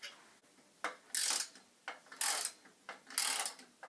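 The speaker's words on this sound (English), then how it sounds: "Next you have to screw the tail leg wheels on with 2 screws." Screws being driven to fix tail leg wheels on a homemade child's go-kart, a series of close, sharp ratcheting turns coming in repeated bursts, with no voices.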